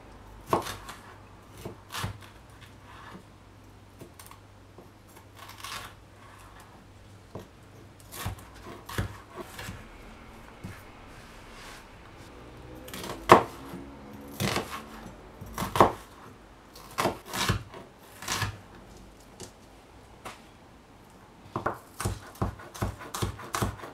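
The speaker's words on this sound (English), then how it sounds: "3 scallions, got my pineapple, 1 Maggi cube, cheap fried rice seasoning, some light soy sauce, and Chinese sauce. First, let's chop these up." A knife chops scallions and pineapple for fried rice on a cutting board, with irregular runs of sharp, close taps, some clustered in quick bursts, others spaced apart.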